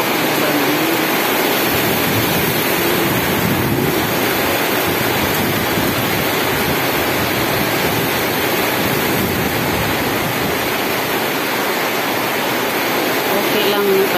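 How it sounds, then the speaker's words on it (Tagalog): Heavy rain from a typhoon pours down in a constant, loud hiss that fills the whole stretch without pause, with no voices standing out. "lakas ng ulan. Lalakas na naman ang ulan. May bagyo po."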